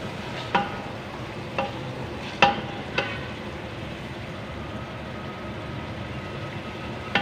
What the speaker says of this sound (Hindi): और 5 से 6 मिनट के लिए मटरों को भी भून लेंगे गोश्त के साथ ही।